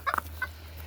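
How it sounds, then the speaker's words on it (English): Black-tailed Japanese white bantam chickens give a few quick, faint clucking calls close by over a low steady hum, with a short pause between bursts. "These are what are called black-tailed Jap whites, bantams."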